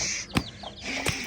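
A chicken clucks nearby in a few short, sharp bursts, with a persistent hiss of background noise underneath.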